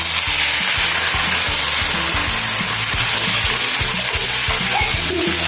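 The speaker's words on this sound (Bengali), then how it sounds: "আমরা এখন ওই বাটা মশলাটা দিয়ে দেবো।" Ground spice paste hits beef tripe frying in a pan, giving a loud, steady sizzle that runs unbroken throughout, with clattering stirring knocks beneath it.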